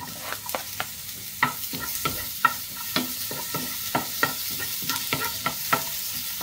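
Corned beef stirred in a pan with very little oil, a soft sizzle broken by frequent scraping spatula strokes in an uneven rhythm, close and clear.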